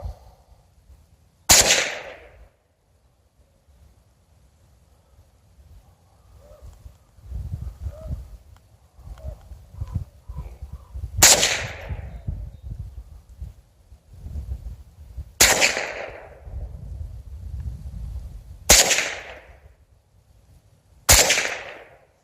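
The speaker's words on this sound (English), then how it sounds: "Let's cap off a few shots and see what's going on." Gunshots ring out at a shooting range, fired by a shooter lying on a shooting mat. Five sharp, loud reports come at uneven intervals, each trailing a short ringing decay, with low rustling and handling noise between them.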